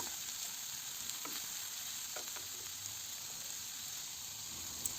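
Minced beef fries in a pan with onion and red pepper, a faint, even sizzle with a few small crackles and light stirring clicks, no talking.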